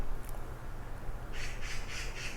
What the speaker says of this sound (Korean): 밖에서 까치인가? 까치 소리겠죠?